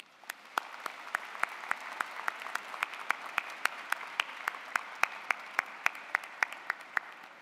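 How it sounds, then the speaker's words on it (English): A commencement audience at a university business school ceremony claps steadily; sharp, distinct hand claps stand out against a soft background murmur, fairly quiet and consistent throughout. "Please join me in congratulating them with a round of applause."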